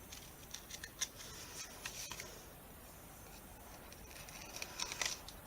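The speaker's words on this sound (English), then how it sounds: "I'm just going to cut the ribbon" Scissors snip through ribbon on a handmade bookmark, giving a few quiet, sharp clicks and short cutting sounds at irregular intervals, close but faint, with no one speaking.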